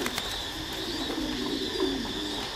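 A pair of breeding pigeons coo softly while feeding their chicks crop milk, with low, gentle cooing murmurs over a faint background hum and a few soft taps.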